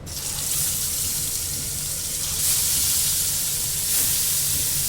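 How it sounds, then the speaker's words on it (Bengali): Pabda fish sizzle as they are dropped into hot oil in a pan, a loud, steady hissing crackle that fills the whole clip with slight swells, close up and without voices. "এই গরম তেলেতে আমি পাবদা মাছগুলো একটা করে ছেড়ে দিচ্ছি"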